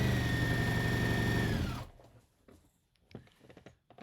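Sewing machine stitching a criss-cross apron, a steady loud whirring run that winds down and stops partway, followed by faint handling clicks and rustles.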